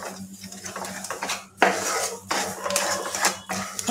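A spoon clanks and scrapes repeatedly against a pan as sugar goes into cooking wheat halwa, with loud close metallic knocks in an uneven stirring rhythm and short pauses between strokes.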